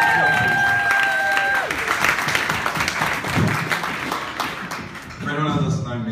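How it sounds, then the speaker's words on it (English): Wedding reception guests applauding, a full crowd of clapping with some cheering and voices mixed in, steady throughout and briefly dipping before swelling again. "Clapping, clapping, come on, clap."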